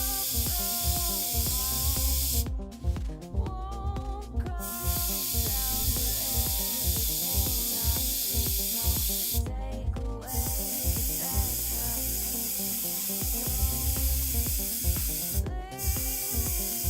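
An airbrush sprays black paint in several separate hissing bursts, close and bright, set over continuous background music.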